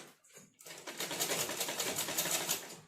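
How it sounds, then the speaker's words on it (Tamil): A sewing machine runs steadily, stitching the fall onto the edge of a saree, with a fast, continuous whirring chatter that starts after a short quiet pause. "ஸோ இப்போ நம்ம ஸ்டிச் பண்ணிக்கலாம்."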